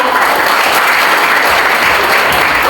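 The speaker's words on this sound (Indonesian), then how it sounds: "Kita beri aplaus dulu untuk Bapak Sekda kita ya." A crowd applauds steadily for the regional secretary at a government event in Keerom, the clapping loud, dense and continuous throughout.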